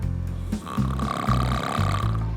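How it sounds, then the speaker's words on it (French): A man with an overly floppy soft palate snores loudly and close, a buzzing, flapping rattle that pulses in quick, regular low bursts. "Là, il ronfle."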